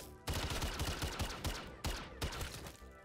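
Rapid automatic gunfire in MW3 aimed at a zombie's leg, a loud close burst of shots with brief pauses and renewed volleys.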